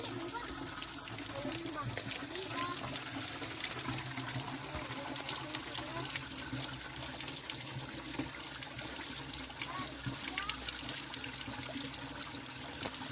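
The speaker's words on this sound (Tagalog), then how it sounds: "wala nang 5 minutes mapupuno yan ang lagayan natin ng tubig" Steady rushing of water from a natural spring pouring into a container, continuous and fairly close, with faint voices murmuring underneath.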